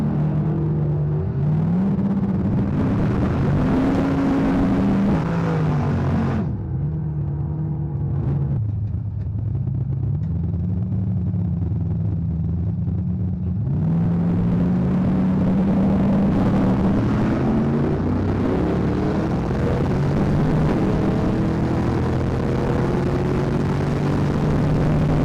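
A turbocharged Ford Mustang on slicks launches down a drag strip, its engine roaring loudly and climbing through the revs, with brief breaks at each upshift before the pitch rises again. No one speaks.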